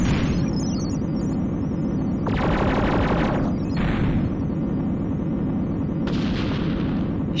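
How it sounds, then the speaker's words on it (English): Shooting in the 3DO space combat game Shock Wave 2: Beyond the Gate, with heavy booming weapon blasts in three loud bursts over a constant deep engine-like rumble. "Nice shooting, Captain."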